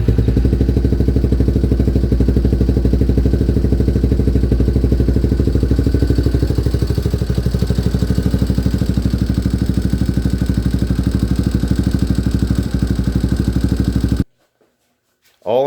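A Yamaha 366 big bore engine with a stage 2 hot cam idles loudly and steadily for about fourteen seconds on its first start, with a dense mechanical clatter, then cuts off abruptly.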